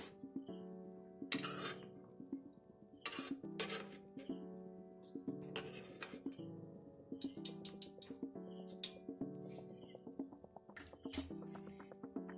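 A spoon clinks and scrapes against a pan while fried cashew nuts are lifted out of hot ghee, with sharp metallic taps at irregular intervals over a faint steady hum.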